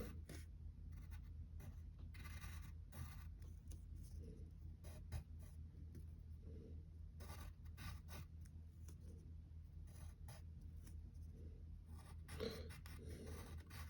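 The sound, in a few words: pencil drawing on paper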